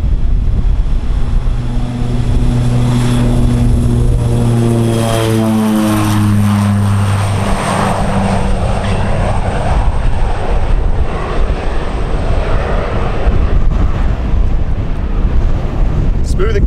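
A propeller airplane's engine drones loudly and steadily, its tone shifting as it climbs away, with wind noise and occasional voices underneath.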